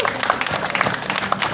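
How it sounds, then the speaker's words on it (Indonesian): An audience at a Balinese temple festival comedy show applauds the committee chair, with dense, continuous clapping from a crowd close by. "Tepuk tangan untuk ketua panitia kita."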